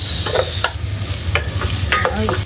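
Onions frying with garlic in a pan are stirred with a utensil, giving a loud, steady sizzle broken by several scraping strokes close by.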